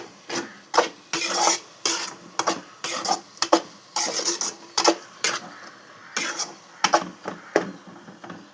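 Turmeric powder being stirred into food frying in a pan: a run of quick scraping and clinking strokes in an uneven rhythm, close and fairly loud, with a faint sizzle underneath and no talking.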